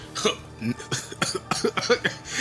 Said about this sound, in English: I was actually trying to do a fake cough and I started coughing for real.